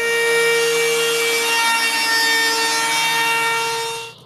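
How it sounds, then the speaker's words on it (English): Handheld router beveling wooden edges at 45 degrees while building a composting toilet for a tiny house: a loud, steady, whining motor drone with a hum of harmonics that runs nearly four seconds and then cuts off. "bevel the edge 45 degree with the router on all edges"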